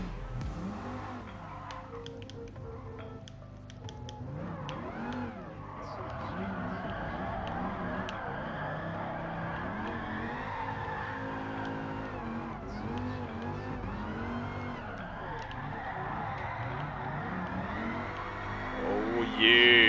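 A drift car's engine revs and its tyres skid in Gran Turismo Sport, a steady, loud engine drone running the whole time with rising and falling pitch, a short burst at the end.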